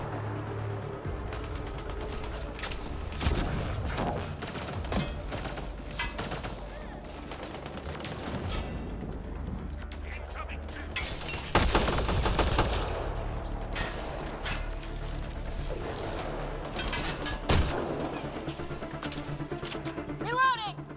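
Rapid gunfire crackles in uneven bursts in the video game Mass Effect Andromeda over a steady background din, with mechanical clacks and a louder volley midway.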